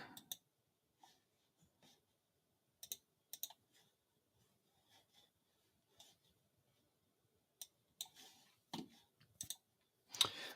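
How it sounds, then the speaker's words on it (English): Clicky computer keyboard typing in short, irregular bursts of sharp keystrokes with pauses between them, close and fairly quiet in an otherwise silent room. "sorry for my clicky keyboard"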